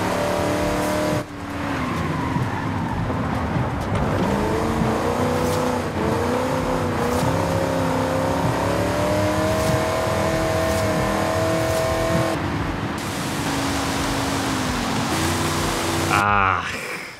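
A 1967 Shelby GT500 with a 7-litre V8 roars continuously in the Forza racing game, revving and shifting through gears with steady loud engine drone, rising pitch sweeps and brief drops, under occasional quiet talk.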